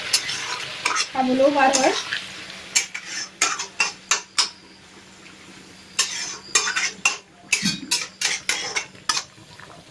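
Curry in a pan on the stove after hot water has been poured in, with a soft sizzle at first, then a string of sharp clinks and scrapes from a spoon stirring against the pan. A voice speaks briefly near the start.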